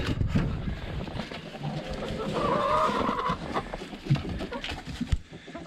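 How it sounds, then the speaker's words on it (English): Chickens clucking inside a chicken house with leaf bedding on the floor, close overlapping clucks and squawks with scattered bumps and movement. "Here's the chicken house."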